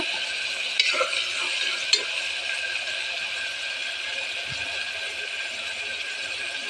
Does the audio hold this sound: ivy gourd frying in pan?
yes